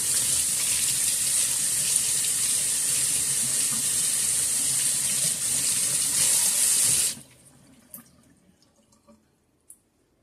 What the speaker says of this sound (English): let me rinse my tomatoes